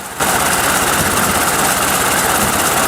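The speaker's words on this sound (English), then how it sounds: "The engines sound like a smooth and melodious purr" A 1925 46.9-litre V12 BMW aircraft engine fitted in a fire engine starts and settles into a steady, deep, smooth idle, loud and close, with constant rumble and no voices.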